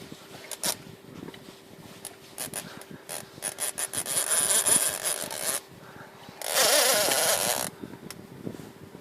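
Fishing reel drag giving line as a hooked striper runs, a close buzzing ratchet in bursts with two sustained loud screeching pulls, over faint mechanical clicks and rustling.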